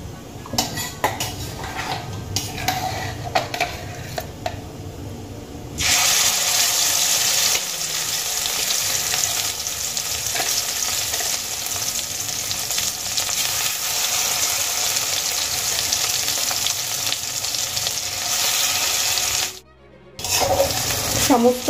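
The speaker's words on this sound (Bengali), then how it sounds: "সমস্ত বটবটি, শুকনো লঙ্কা, পেঁয়াজ, রসুন একসঙ্গে পেস্ট করে নেওয়া মিশ্রণটি আমি এর মধ্যে দিয়ে দিয়েছি, এবার খুব ভালো করে ভেজে নেব।" A paste of yardlong beans, dried chili, onion and garlic frying in a pan after black cumin, with a loud steady sizzle following earlier clinks of utensils and stirring, briefly cut off near the end.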